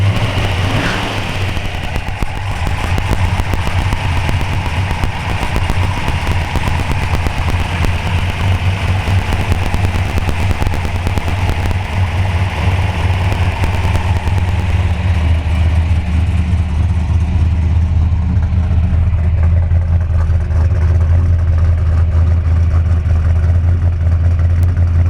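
A 1963 Dodge 330 two-door sedan with a 426 Max Wedge V8 runs steadily for about 25 seconds, a loud, deep, rumbling idle close by with a heavy low-end throb and no voices over it.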